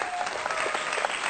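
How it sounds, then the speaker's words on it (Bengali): A crowd applauds loudly and steadily at a football kicking contest. The dense clapping runs without a break for the whole moment, with no talk over it. "জোরে হাততালি হোক।"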